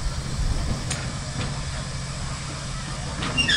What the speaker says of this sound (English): gauge steam locomotive in the world.